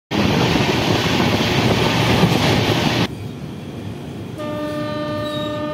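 The Mithila Express passenger train runs on the Howrah–Raxaul route, heard as a loud, steady rolling rumble that cuts to a quieter interior drone with a faint high whine.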